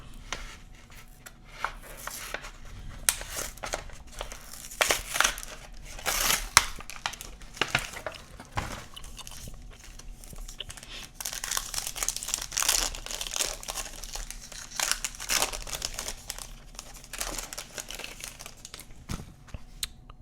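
A foil wrapper on a pack of football trading cards is torn open and handled, producing close crinkling, crackling and tearing in irregular bursts over twenty seconds, with no talking.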